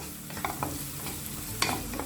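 Onions frying with salt in a pan, softening for a capsicum pulao, make a steady close sizzle with a few stirring scrapes and no talking.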